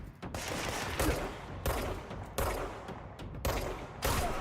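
Rapid gunfire from the video game Control, a series of sharp repeated shots in several quick bursts over steady background noise, loud and close.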